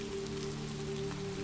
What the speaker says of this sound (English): listening to the soft drizzle upon the water